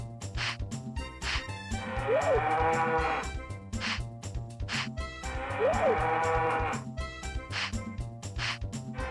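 Cows moo in the Harvest Moon 64 video game, two long moos rising and falling a few seconds apart over looping background music.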